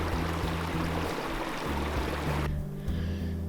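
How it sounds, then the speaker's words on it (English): Steady rush of a mountain stream in the Pecos Wilderness, close and continuous with low gurgling tones, the bright splashing part dropping away sharply partway through as the flow sounds more muffled. "This is the first stream that doesn't have a culvert."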